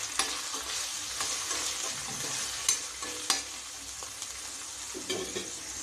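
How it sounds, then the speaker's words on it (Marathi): Finely chopped onion fries in a pan over bay leaves for an Indian vegetable thali, giving a soft continuous sizzle with intermittent scraping stirs of a utensil, quiet and close, with no voices. "कांदा टाकूया बारीक चिरलेला."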